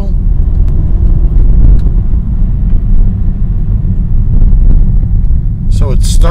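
Truck engine rumbling under light acceleration, a loud steady low drone close to the microphone with a faint whining clutch or turbo tone, with brief speech toward the end.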